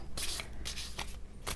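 An Angels and Ancestors oracle card deck is shuffled in several quick bursts of crisp card riffling, close and soft, with nobody speaking.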